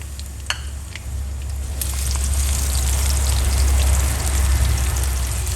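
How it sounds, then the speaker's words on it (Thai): Chopped garlic hits hot oil in a wok for a Thai curry-powder seafood stir-fry, with a small clink and then a loud, steady sizzle that swells and holds close. "ใส่น้ำมันตั้งน้ำมันให้ร้อนค่ะ ใส่กระเทียมสับลงไป"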